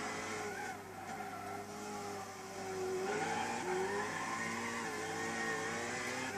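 Race car lapping Bathurst in Gran Turismo 6, its engine a steady loud drone with a rising, shifting pitch as it slides sideways out of a corner on cold tyres and the power goes down, without talk.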